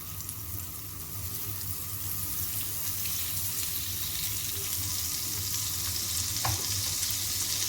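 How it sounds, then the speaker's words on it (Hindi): Butter melting on a hot tawa griddle before keema goes in, giving a low, constant, even sizzle that builds slightly, with one faint clink toward the end. "तवे के ऊपर मैं लगाऊंगी बटर।"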